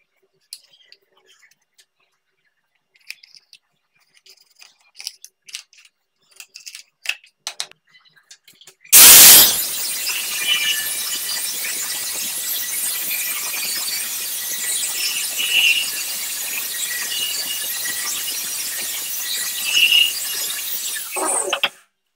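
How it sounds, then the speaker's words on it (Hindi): PVC pipe for an extension board socket is cut with a tool that gives a loud, continuous, harsh rasping whine for about twelve seconds, preceded by scattered quiet clicks and handling noises. "अब इसमें हम इस मीटर का डायमीटर लेके इसकी कटिंग कर लेते हैं"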